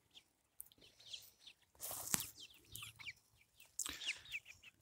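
Two-month-old free-range Dominant mix chickens, hens and a rooster, cluck and squawk nearby in short, scattered bursts, with quiet gaps between calls.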